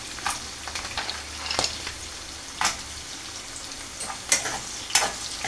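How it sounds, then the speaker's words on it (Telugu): Cumin and a handful of cashews fry in hot oil, a continuous soft sizzle broken by scattered sharp crackles and spatters, close and fairly loud, with no talking. "ఇప్పుడు ఇది కొంచెం ఫ్రై అవుతుంది కదా, ఒక గుప్పడి జీడిపప్పు అనేది వేస్తున్నాను"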